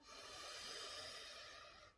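A slow, steady in-breath during a grounding qigong-style breathing exercise, soft and close, drawn out as a continuous airy hiss lasting about two seconds with no talking.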